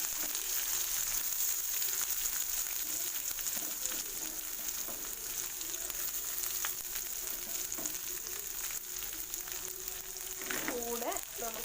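Sliced onion sautéing in hot oil in a pan while papaya thoran is cooked, a steady broadband sizzle that holds loud and unbroken throughout, with faint stirring scrapes near the end.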